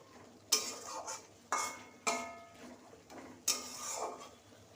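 Fish curry with potato, onion, garlic, ginger and tomato is stirred in a pot, each pass making a loud, scraping swish that comes in a regular rhythm of about one stroke per second.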